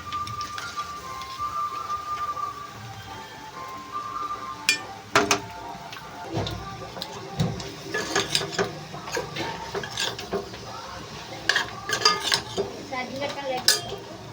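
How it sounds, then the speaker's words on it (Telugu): Onions frying in a pan for a Telugu raw mango and prawn dish, with a soft sizzle under frequent sharp clinks and scrapes of a spoon against the pan. There is no talk. "ఉల్లిపాయలు అయితే వేగిపోతున్నాయండి ఇంకా కొంచెం అయితే వేగాలి"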